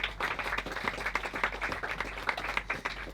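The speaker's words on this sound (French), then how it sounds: "Applaudissez-le, Florian Habert." Applause from an audience at an album release party, a steady burst of many hands clapping, fairly close and moderately loud, with a low constant hum beneath and no speech over it.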